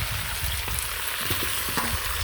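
Potatoes frying in a hot pan after being added to a cooked mixture, a steady close sizzle with faint crackles and a few small stirring knocks, no talk.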